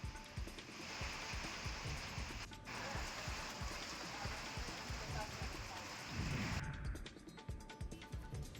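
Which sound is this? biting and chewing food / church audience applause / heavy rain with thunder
heavy rain with thunder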